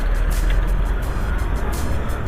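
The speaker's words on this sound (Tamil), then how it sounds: "பஸ்ஸஸும் நிறையா போயிட்டுருக்கு இந்த ரூட்டில் ஆக்சுவலாக" Buses and cars on the Pattukkottai–Adirampattinam road make a steady, loud traffic rumble with engine drone and passing whooshes, continuous throughout with no talk.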